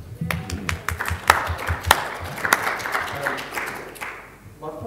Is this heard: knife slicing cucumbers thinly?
no